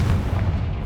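Fiery spell blast in the Hogwarts Legacy game, a brief dense low rumbling boom that fills the whole short moment at close range, with no voice.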